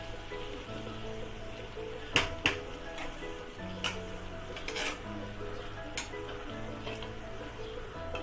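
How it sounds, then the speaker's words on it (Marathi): Vegetables for a vegetable biryani frying in oil, a steady low sizzle with occasional sharp clinks of a utensil against the pan, close and moderately quiet, no talking. "भाज्या कशा पहिल्या तळून घेतल्यामुळे पटकन शिजल्या जातात ना, म्हणून या तळून घ्यायच्या पहिल्यांदा."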